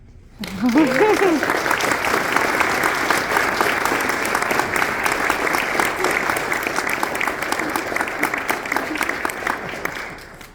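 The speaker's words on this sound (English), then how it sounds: "Everybody can clap." Audience applause at a United States Air Force retirement ceremony, a sustained, dense wash of clapping from a large crowd that starts sharply after a brief word and runs steadily for about ten seconds before tapering.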